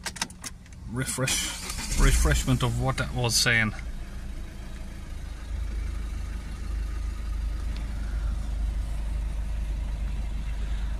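Someone talks briefly, then the ignition key is cycled and a car with a DPF fault code P1445 starts and settles into a steady low idle that continues alone.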